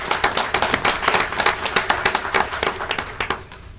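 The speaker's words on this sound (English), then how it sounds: "Let's give them a round of applause as well" Applause from a city council meeting audience thanking a group of gentlemen, a steady patter of hand claps with distinct individual claps standing out, close and moderately loud, lasting several seconds before fading.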